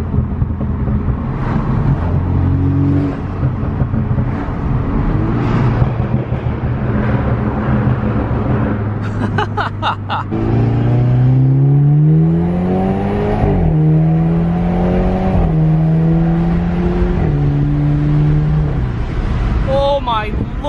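A tuned BMW F30 four-cylinder runs steadily, then accelerates hard through a tunnel, its loud engine note climbing through gears with a pop at the shift; someone talks over the engine at times.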